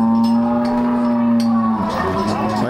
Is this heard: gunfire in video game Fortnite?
no